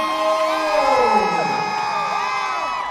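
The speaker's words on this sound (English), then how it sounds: "we've had some loud cheers for the local guys, but I think Stephen Tuggle has taken the crown for the most crowd support here so far" A fight-night arena crowd cheers and whoops loudly for Stephen Tuggle after his TKO win, a dense sustained roar of voices with rising shouts layered over it throughout.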